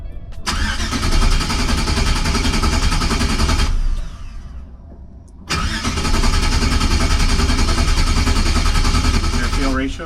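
A turbocharged car engine running on a Holley Terminator X Max system fires up and runs loud and close, cuts out for a moment, then restarts and keeps running steadily. People may talk faintly underneath.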